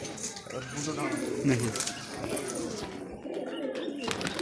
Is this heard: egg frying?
no